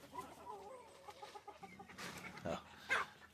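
Soft clucking from a nearby hen, a few quiet murmured notes followed by a couple of sharper squawks, fairly faint and close.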